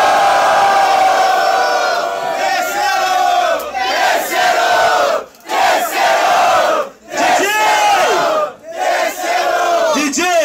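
A loud crowd at a Rio de Janeiro rap battle semifinal roars, whoops and cheers in continuous waves close by, with brief dips between surges of shouting.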